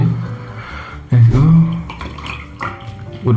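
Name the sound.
pouring cold water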